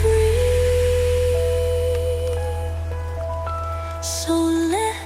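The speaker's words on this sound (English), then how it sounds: "Just hear the rain" Steady rain patters softly beneath slow, sustained electronic tones and a low, constant hum, forming a calm, continuous wash of sound.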